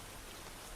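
Steady rain falling continuously, a dense even hiss of drops on surfaces, soft and distant with no other sounds.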